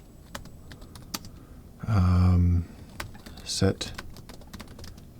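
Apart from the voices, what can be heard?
typing a command on a computer keyboard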